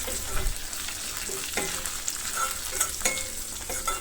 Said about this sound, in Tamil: இப்போ வெங்காயம் பார்த்திங்கன்னா நல்லா பொன்னிறம் வர வரைக்கும் வதக்கிக்கலாம்.